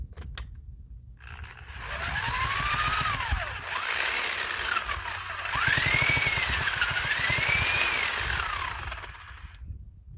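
A moped motor spun by a power drill buzzes and whines through rising and falling revs in two long surges, with steady mechanical rattle beneath, close and fairly loud.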